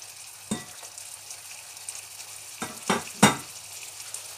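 Sweet potato leaves sautéing in a pan, a low steady sizzle with a few distinct scraping stir strokes, the loudest near the end, close by.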